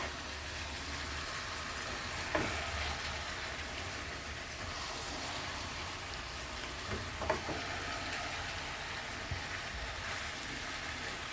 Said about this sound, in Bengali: এইবার সব কিছুর সাথে এই চিকেনগুলোকে ভালোভাবে মিশিয়ে নিতে হবে।